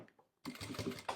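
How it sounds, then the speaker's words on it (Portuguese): A sewing machine starts abruptly after a short silence and stitches a handle onto a toiletry bag in a quick, close, rapid burst. "Mas agora eu vou costurar"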